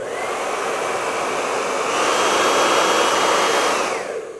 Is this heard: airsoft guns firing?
no